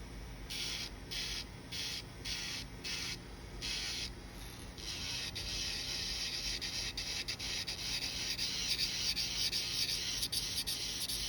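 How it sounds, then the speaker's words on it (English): A nail file works over an acrylic nail, close, quiet repeated scratchy strokes, first in short separate bursts and then in a faster continuous rubbing. "there's something weird right there when I'm filing"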